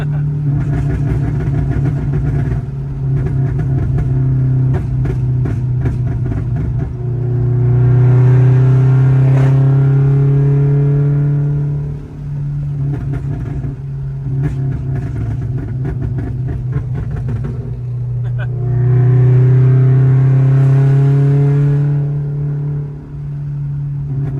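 A Subaru BRZ or Toyota FRS fitted with a Tomei overpipe exhaust revs loudly and close up, a steady droning idle swelling twice into long, rising high-rpm revs before dropping back.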